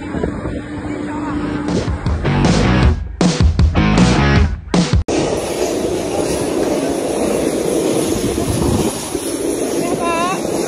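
A Hercules military transport aircraft roars loudly with a steady engine drone. A burst of louder broadband noise and rustling partway through gives way to a constant high whine and hum.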